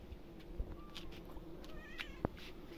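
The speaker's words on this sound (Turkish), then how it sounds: "Hadi bunlar yavru kedi, bilmiyor. Sen niye gelmedin annesi? Ne biçim aksi kedi dersiniz ha?" Several cats meow in a garden in Kemaliye, Erzincan, with a few short high mews and one sharper cry near the end, heard close over a steady outdoor background.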